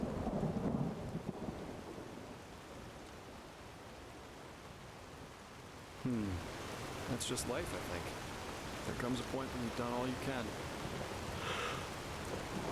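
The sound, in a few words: rain and thunder in the video game Enderal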